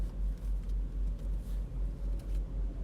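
Car driving on the road, heard from inside as a faint low rumble with a soft rhythmic pulsing and steady road noise, no voices.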